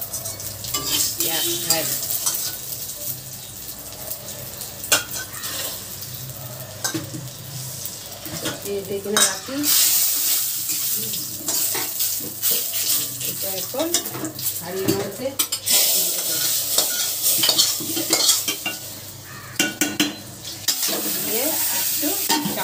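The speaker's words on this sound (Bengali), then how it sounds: "কাঁচা লঙ্কাটা ভাজবো, আচ্ছা ভেজেই দিই গোটা গরম" Green chillies and whole garam masala spices fry in hot oil for khichuri, giving a close, crackling sizzle broken by stirring, the scrape of a spoon and clatter against the pot, with a voice briefly speaking over it.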